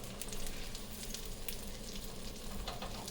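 Chicken parm pieces sizzle steadily in a hot frying pan after being flipped, a dense continuous crackle of oil with small sharp pops scattered throughout, close and fairly loud with no voices.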